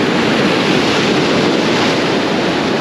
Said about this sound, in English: Decent wave coming in.